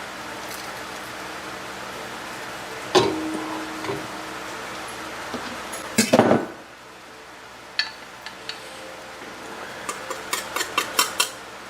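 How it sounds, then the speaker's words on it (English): Peppercorns being crushed in a metal garlic press, giving a few sharp cracks and crunching bursts close by, with a louder grinding cluster midway and lighter ticks and clinks after, no talking. "I'm going to take some peppercorns and put them through the garlic press"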